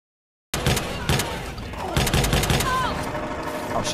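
Gunfire crackles through a firefight in the game Watch Dogs 2: loud, close shots in quick, uneven bursts with booming impacts, and faint whistling effects toward the end.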